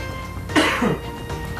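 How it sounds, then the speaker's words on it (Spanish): A single harsh cough bursts out over a steady background hum, brief and fairly close, with no talking around it. "Esa es la tos."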